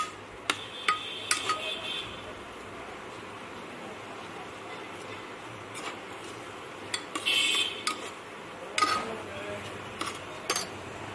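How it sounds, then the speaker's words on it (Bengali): Soaked mung dal is stirred inside a pressure cooker, a spoon scraping and clinking irregularly against the metal pot over a quiet background, with speech now and then. "এখন ভেজানো মুগ ডাল প্রেসার কুকারে দিয়ে সেইটা এর সঙ্গে মিশিয়ে নাড়িয়ে নিচ্ছি।"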